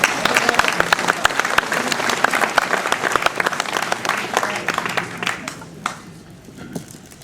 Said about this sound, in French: Voilà, et on peut applaudir.